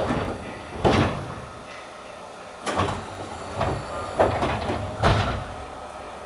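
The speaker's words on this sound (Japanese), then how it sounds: "一旦すべてのドアを開きます。" Doors on a Seibu Chichibu Line train slide open in sequence at a station platform, a series of about six separate thumping, sliding bursts a second or so apart, moderately near, with no speech.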